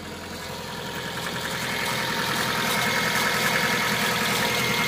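A car engine idling just after being jump started from a power bank with a flat battery, a steady close rumble that swells slightly louder over a few seconds and then holds even.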